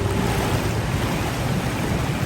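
A jungle waterfall beside a flooded lake campsite at Lake Kenyir sends up a steady, dense roar of rushing water, loud and close, with no voices over it.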